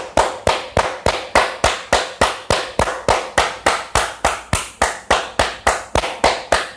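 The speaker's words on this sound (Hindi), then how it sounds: "ताली बजाएंगे।" A group claps together during a yoga rehearsal, about twenty sharp, loud, close claps in a steady even rhythm of roughly three per second, each with a short decaying ring, with no talking.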